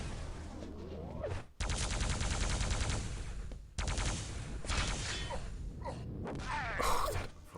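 Game weapons in a Quake match fire in loud, dense bursts with rocket launcher shots and explosions, broken by short pauses, alongside whooshing movement and pickup sounds.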